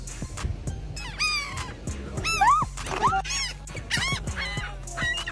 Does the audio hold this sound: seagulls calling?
yes